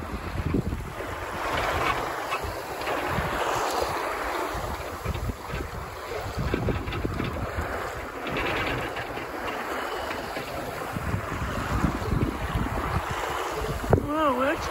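Cold wind blows steadily across a sailboat underway at sea near the Orkney Islands, a continuous broad rushing noise with low gusty rumble, and a voice faintly present.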